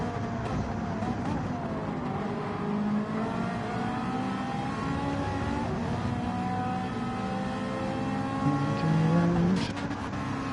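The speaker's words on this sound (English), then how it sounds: "The Ferrari is nice to drive on this track." A Ferrari race car in a racing video game, its engine droning steadily with rising and falling revs through corners, loud and continuous throughout, with faint engine notes of other cars beneath.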